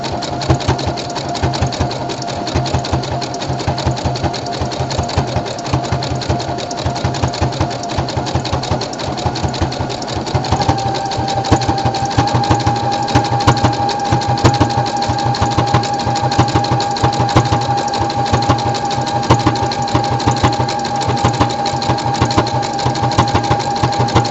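A sewing machine runs steadily, top stitching an accent strip with contrasting thread beside serger work, its close, continuous motor hum and rapid needle clatter lasting throughout without pause.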